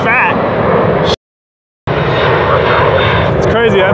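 A fixed-wing airplane roars past overhead while people car camp, a loud steady engine rush broken by a brief gap of silence before resuming, with voices nearby.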